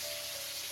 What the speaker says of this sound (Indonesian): Di sini tuh digunakan untuk menggoreng tahu.